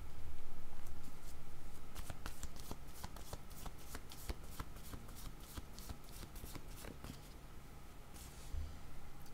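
A deck of cards shuffled for a tarot-style card reading, with rapid, close riffling flutters repeating in quick bursts throughout, fairly quiet and with no talking.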